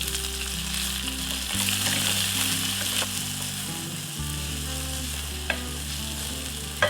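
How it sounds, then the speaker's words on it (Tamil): Long-sliced onions and curry leaves sauté in hot oil in a pan for kuska biryani, giving a steady, close sizzle with occasional stirring scrapes and light clinks, and no talking. "கூடவே கொஞ்சமா கறிவேப்பிலை, நீளமா நறுக்கின 1 கப் வெங்காயத்தை சேர்த்து நல்லா வதக்கிக்கிறலாம்"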